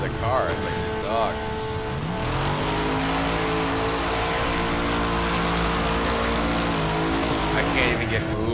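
A damaged car engine in the demolition racing game Wreckfest drones and strains at a steady pitch for several seconds, loud and continuous, with brief higher revving whines at the start.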